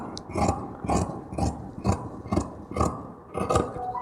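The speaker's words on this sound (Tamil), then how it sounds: "இப்போ நம்ம இதை கையை கட் பண்ணி எடுத்துடலாம் கொஞ்சம் வளைவாக" Scissors cutting a curved sleeve piece from fabric in tailoring: a series of about eight evenly spaced, crisp snips up close, each with a short metallic crunch.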